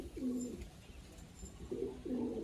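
Pigeons in a loft give a few soft, low, rounded coos in short bursts, fairly close and quiet, with no talk.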